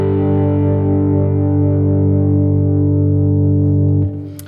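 A distorted electric guitar chord rings out loud and sustained for about four seconds with a reverberant wash, then is abruptly muted.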